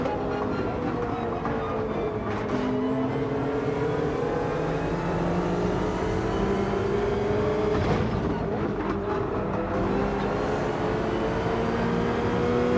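A Nissan GT-R in Gran Turismo 7 races a Gr.3 car at Willow Springs, its engine droning loudly and continuously with rising and falling pitch through gear changes and corners, and a faint high whine above.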